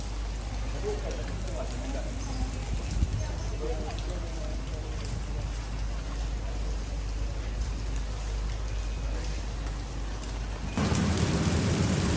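Steady rain falling in Lahore, a dense continuous hiss with faint voices underneath, then the hiss grows louder and harsher near the end.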